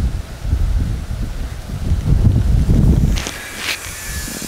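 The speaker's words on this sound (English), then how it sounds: "The wind is picking up really hard." Strong wind buffets an outdoor microphone with low, gusty rumbling that rises and falls over a few seconds. Faint rustling and a couple of light higher-pitched rattles come in near the end.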